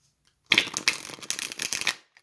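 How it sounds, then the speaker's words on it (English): A tarot deck riffles and shuffles in several quick bursts of papery flutter, close and fairly loud, with no talking. "Let's just see how it shuffles."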